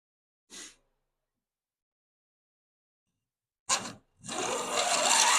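A wooden hand plane takes a heavy shaving off a board: a short scrape, a pause, then a sharp swipe followed by a longer, louder rough rasping stroke, close and without talk.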